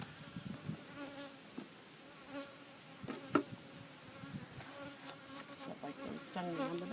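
Bees drone and buzz around a beehive bottom board, a close, continuous insect hum with a few louder passes near the end.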